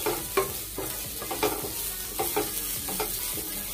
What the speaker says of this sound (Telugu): ఫ్రై చేస్తున్నా,